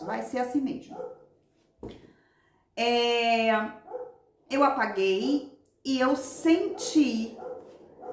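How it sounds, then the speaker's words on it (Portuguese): A nervous dog barks in loud bursts near the microphone, several separate volleys with pauses between, while someone talks. "desculpa o cachorro, o pessoal tá passando trabalho, o cachorro fica nervoso"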